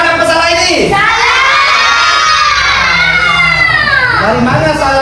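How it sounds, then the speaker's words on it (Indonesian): A classroom group of children cheers and shouts loudly for a presenting group of students, the crowd noise sustained and lively throughout, with rising whoops at the start and end. "tepuk tangan dulu untuk kelompok 4"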